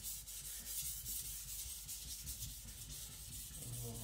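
A custom Chinese cleaver made by Patrik Carlvik, its steel sides tinned, is polished on sharpening stones, making a steady, close rasping rub that continues for several seconds without pause.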